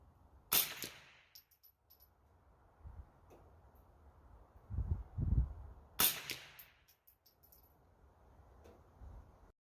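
Two sharp, loud shots from a Savage A22 .22 rifle fired with cheap ammunition, spaced several seconds apart outdoors, each with a brief echo, and quiet handling noises and thumps between them.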